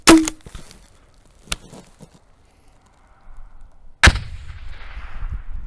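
A sharp, loud shot from a Fort-600A grenade launcher bangs at the start, followed by a distant thud, then a second heavy blast that rolls off into rumbling echo.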